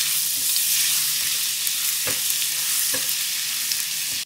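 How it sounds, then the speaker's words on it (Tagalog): Garlic sautéing in hot oil in a pan makes a loud, close, continuous sizzle, broken by a few brief stirring scrapes and with no talking. "Magpainit tayo ng mantika. Tapos igisa natin yung bawang."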